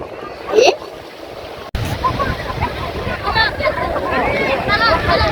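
Sea water at Montaza beach in Alexandria washes and splashes nearby in a continuous, fairly loud wash mixed with wind buffeting the microphone, after a brief quieter opening with a short voice.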